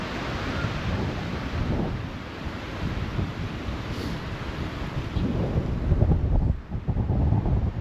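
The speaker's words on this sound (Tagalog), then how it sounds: "Sa Pinas bagyo na to pag ganito kalakas ang hangin." Strong wind blows hard through a park, roaring and buffeting the microphone in heavy continuous gusts with no break.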